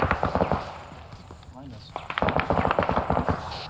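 Gunfire in the military video game Arma 3 rattles behind a squad, rapid bursts of sharp cracks in quick rhythm, loud at first, pausing, then resuming, with voices talking over the shooting.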